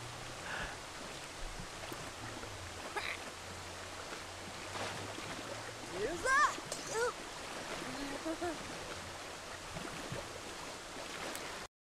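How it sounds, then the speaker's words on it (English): Waterfall in The Sims 3 video game, a steady moderate rush and splash of falling water throughout, with brief Sim voices and chirps over it. "She wants to play in the waterfall."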